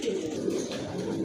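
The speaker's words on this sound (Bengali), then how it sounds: "সিঙ্গেল একটা মাদি কবুতর মাশাআল্লাহ, অনেক সুন্দর একটা মাদি" A single female pigeon for sale coos softly up close, a low continuous murmuring call with no talk over it.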